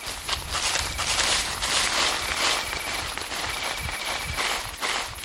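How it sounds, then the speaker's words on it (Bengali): Footsteps rustle and crunch through dry leaves at night, a continuous crackling shuffle like several people walking close by, with a faint cricket trill running underneath. "একটা খস খস শব্দ।"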